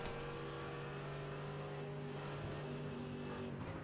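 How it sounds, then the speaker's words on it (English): A Porsche 992 race car in a sim racing esports event at Sebring drones steadily past, its engine a continuous whirring hum with a slight rise toward the end, fairly quiet and without talk. "There goes the Porsche"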